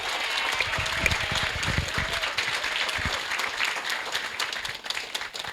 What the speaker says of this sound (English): So I would like to ask you all to give a round of applause to the Mission Springs Water District staff.